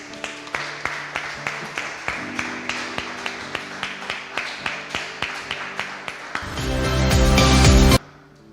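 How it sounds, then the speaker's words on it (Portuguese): A church congregation claps along in a steady rhythmic beat, over music, for several seconds, then swells into a louder burst of applause and cheering before cutting off abruptly. "Você pode aplaudir o Senhor."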